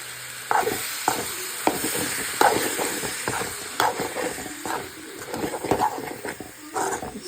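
Liver sizzles in a frying pan with steady, fairly soft crackling, broken by repeated scraping knocks as it is stirred.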